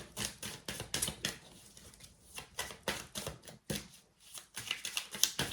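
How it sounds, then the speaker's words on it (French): Playing cards are handled and laid down in a quick series of close, crisp slaps and shuffling rustles, with brief pauses between bursts. "on va recouvrir ces cartes."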